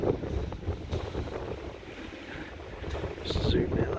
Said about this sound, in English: Rain is strengthening again.